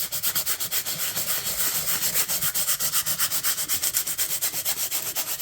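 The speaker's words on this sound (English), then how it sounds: "So I've got 80 grit sandpaper." Rhythmic back-and-forth rubbing of 80 grit sandpaper on wood, with steady close strokes about five per second and no talking.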